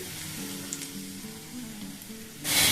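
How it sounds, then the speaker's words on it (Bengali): Mung dal kachori stuffing frying in a pan, a steady broadband sizzle with faint stirring scrapes, closing in a louder burst of hiss near the end. "এবার এগুলোকে খুব ভালো করে ভেজে নেব"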